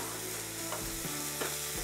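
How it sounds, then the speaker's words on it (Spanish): Onion and garlic frying and browning in a pan, a close steady sizzle with a few soft scraping stir strokes, no voices present. "la cebolla, ajo, que se dore"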